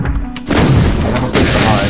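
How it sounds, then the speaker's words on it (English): Shotgun firing at a Cyberdemon in the game Doom 2: two loud, punchy blasts about a second apart, each with a booming tail, amid dense in-game noise. "Shotgun is really solid against the cyber demon at close quarters."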